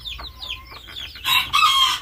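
Red Fly hens cluck loudly and close in a backyard cage with chicks, following a run of thin, high peeping chirps.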